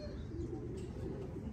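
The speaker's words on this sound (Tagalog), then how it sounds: "nagdadatingan yung mga ibon natin" Racing pigeons arriving home to the loft during a Capistrano Classic race, giving soft, low cooing calls with a faint chirp, quiet and close against light background noise.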